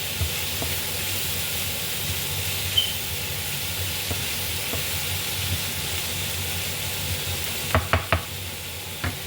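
Ginger chicken with chopped coriander and nuts is stirred in a hot pan, giving a steady close sizzle and hiss throughout, with a few sharp utensil scrapes and taps near the end.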